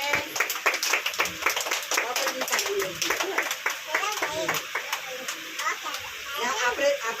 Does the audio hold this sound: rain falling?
no